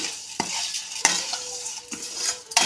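Soft sizzling of vermicelli roasting in ghee in a pan, broken by several sharp scraping clinks of a utensil stirring, a few seconds apart.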